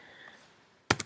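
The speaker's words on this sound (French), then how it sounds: "Donc je tape Benet" Computer keyboard being typed on while entering a name into scheduling software, heard as three crisp, close keystrokes in a quick cluster at the end after a quiet stretch.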